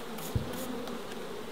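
Honey bees hum in a steady, continuous buzz around their hive, faint and even, like a busy swarm.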